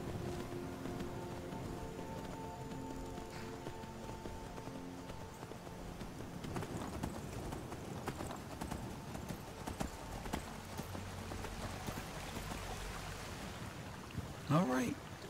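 Steady hoofbeats of a galloping horse in Skyrim Special Edition, rhythmic and continuous, with a brief voice near the end.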